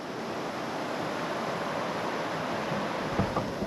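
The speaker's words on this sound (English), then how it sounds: "the spillway's right there, so it's pretty loud" Water rushing over a spillway makes a steady, loud roar that fills the scene like a constant wash of noise, unbroken throughout, with no voices.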